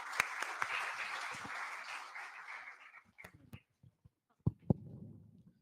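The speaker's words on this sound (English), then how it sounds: "Sir, please, we have a great round of applause," Audience applause at a first-year engineering induction and orientation program, a soft, moderately distant wash of clapping for about three seconds that thins out into a few scattered claps and knocks.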